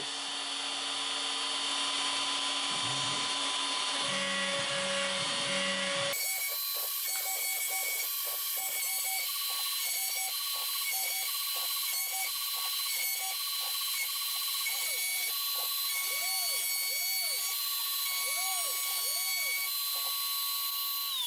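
A CNC router whines steadily as its bit cuts through material, with repeated rising and falling pitch sweeps and clicks over a constant high hum.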